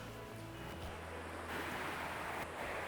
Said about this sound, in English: Man, I love the sound of that river, don't you?